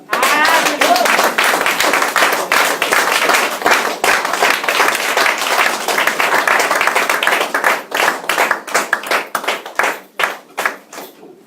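A church congregation applauds loudly and continuously for the Lord, dense clapping filling the space, the sound thinning into separate claps near the end.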